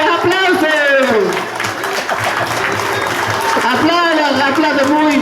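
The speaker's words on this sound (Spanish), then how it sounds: "Muy bien, aplausos, aplausos." Applause from a group at a teacher-training session in Puerto Bermúdez: a dense, continuous patter of clapping mixed with loud voices speaking and calling out over it throughout.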